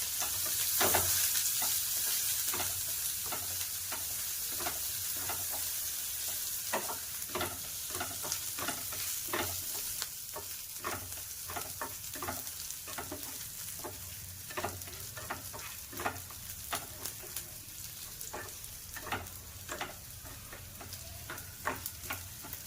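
Curry leaves fry in hot oil in a pan, giving a steady close sizzle broken by regular clicks and scrapes of a spoon stirring them, with no talking.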